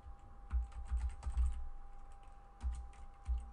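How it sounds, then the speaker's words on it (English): Typing on a computer keyboard, bursts of quick close clicks with a few heavier thumps, pausing briefly before resuming, with no voices. "Go ahead and type in here introduction."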